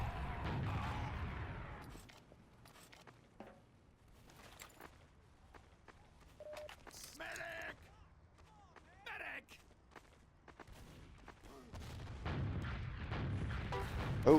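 Soldier rocket explosions and gunfire in a Team Fortress 2 match on cp_Process: loud blasts at the start and end, with scattered shots, footsteps and game effects between, while people talk.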